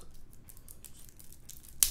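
Plastic wrapper on a card pack from the Air Mail board game being torn open, with faint crinkling and short rustles before a sharp tear at the end.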